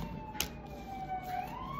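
A distant emergency siren wails, its tone sliding down then rising again, with a brief sharp click early on.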